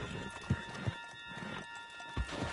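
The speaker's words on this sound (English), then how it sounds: "Put Strauss on the back of John's horse and let's get out of here" Horse hooves clip-clop in an uneven rhythm, with a brief whinny, in a PS4 video game escape scene, under steady background game noise and tonal hum.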